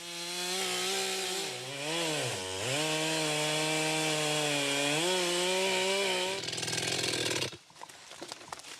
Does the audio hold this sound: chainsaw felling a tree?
yes